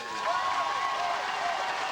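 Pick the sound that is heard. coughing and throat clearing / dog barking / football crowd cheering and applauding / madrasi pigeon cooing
football crowd cheering and applauding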